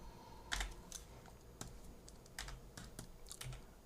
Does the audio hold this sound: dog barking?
no